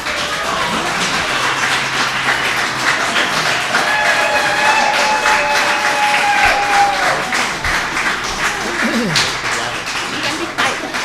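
Attendees at a Lake Worth Beach CRA board meeting applaud, a steady, full round of clapping lasting over ten seconds with a faint tonal murmur and a few thumps beneath it.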